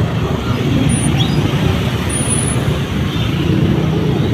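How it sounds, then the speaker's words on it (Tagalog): Road traffic in a jam makes a loud, steady rumble of engines and tyres that goes on without a break, with a faint high squeal briefly on top. "Traffic guys."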